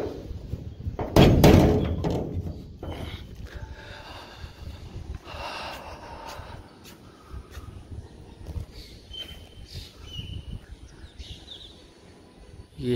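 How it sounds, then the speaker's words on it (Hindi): A door thuds shut nearby with a loud clunk against the sound of rain, followed by rustling, handling noises and faint background sounds. "दरवाज़ा बंद कर देते हैं ताकि आवाज़ से आवाज़ ना आए।"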